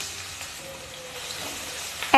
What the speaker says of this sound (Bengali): 1 মিনিট মতন ভেজে নেব।